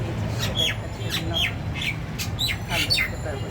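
Birds call repeatedly from a city balcony, sharp squawking notes arriving in short bursts every half second or so over a steady low background rumble, fairly close and with no voices.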